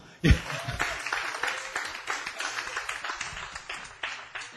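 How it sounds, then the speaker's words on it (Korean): A small group at a church praise seminar claps after a sudden thump at the start, the hands falling into a loose, fairly quick rhythmic beat that carries on at moderate volume to the end. "박수"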